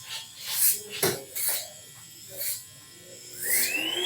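An electric hair clipper designed to hold 11,000 RPM buzzes in short bursts during a fade haircut, with a rising whine as the motor speeds up near the end and someone talking between bursts.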